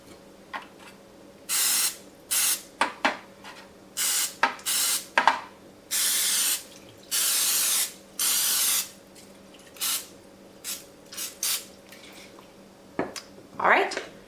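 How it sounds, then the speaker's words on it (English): Nonstick cooking spray is sprayed onto egg molds and cookie cutters in a series of hissing bursts, some short and some held for about a second, with small clicks and taps between them, up close. "taking our cooking spray, nonstick cooking spray, and spraying down our eggs and our cookie"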